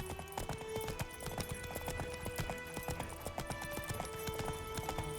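Horse hooves clip-clopping at a gallop in the video game Witcher 3, a continuous rhythmic pounding with faint jingling tack, steady and close with no talk.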